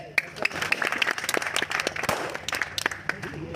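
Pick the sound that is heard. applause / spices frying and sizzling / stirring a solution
applause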